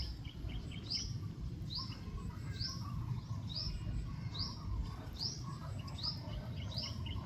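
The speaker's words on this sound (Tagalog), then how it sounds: "Yan po yung mga ibon namin." Maya Bungol birds on a farm give repeated short, bright chirps at a steady rhythm, several calls a second apart, over a constant low rumble of outdoor background noise.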